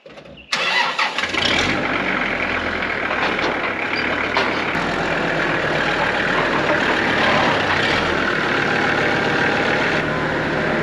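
A farm tractor engine cuts in after a brief moment and runs loud and steady close by, with a constant broad mechanical roar that doesn't change throughout.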